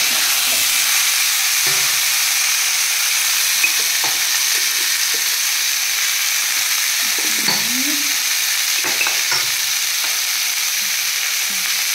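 Curry of vegetable stalks, potato and fish frying in a pan on a gas stove, with a steady loud sizzle and hiss running throughout and occasional soft clinks of stirring.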